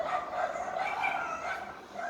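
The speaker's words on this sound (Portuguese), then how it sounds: "os cachorros começaram a latir" Dogs bark and yip somewhat faintly in the background of a home recording, with a steady string of barks and no clear pauses.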